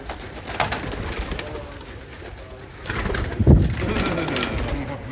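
Pigeons coo in a loft, soft low murmurs and a few brief calls rising around the middle, close and steady throughout without speech.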